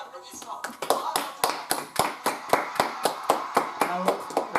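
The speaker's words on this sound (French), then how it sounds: "Équipes ont bien mérité quelques applaudissements." Applause in the 1-2-Switch video game, heard as a run of regular, evenly spaced clap-like taps, about three per second, close and moderately loud, with a few faint voices in the background.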